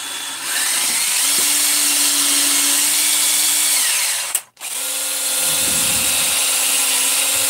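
A power tool fitted with a Scotch-Brite pad buffs a finished cylinder head in a steady, close whirring grind, cutting out briefly partway through and then starting up again.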